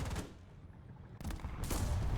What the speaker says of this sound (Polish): Niestety obrywam od izraelskiego M51.